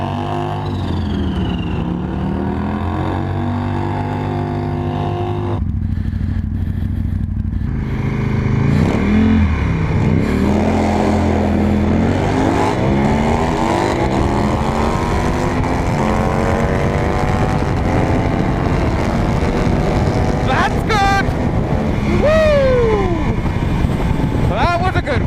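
Motorcycles drag racing at Santa Pod, including a supercharged 220-horsepower Harley, roar with a loud, sustained engine note that climbs in pitch through repeated gear changes. A voice is also present beneath the engine noise.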